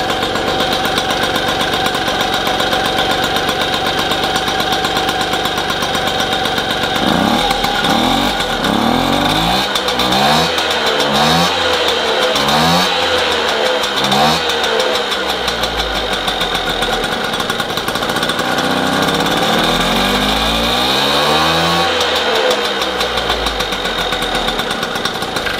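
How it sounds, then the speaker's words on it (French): A freshly rebuilt AV 88 engine running at its first start, a loud steady idle with repeated rising and falling revs, rough and vibrating with an unsecured axle bolt, close up and without talk. "le moteur vibre parce que je n'ai pas encore serré le boulon de l'axe"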